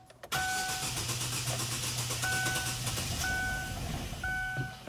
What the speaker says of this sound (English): now it doesn't wanna start